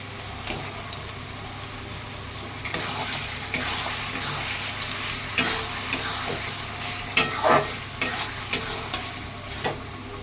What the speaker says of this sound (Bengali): দেখুন মাংসগুলো আমি দিয়ে দিচ্ছি।